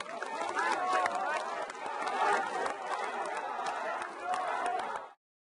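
Crowd cheering and clapping at the launch of a political campaign march at Jagalchi fish market in Busan, a dense, sustained roar of voices and applause with rising swells, fairly near, then cutting off abruptly.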